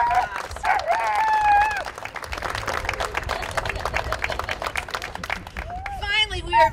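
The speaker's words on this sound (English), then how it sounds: "If we could give all our legislative sponsors a round of applause." Round of applause at a charity auction press conference, clapping from a modest crowd mixed with raised voices and cheering, rising and falling over several seconds.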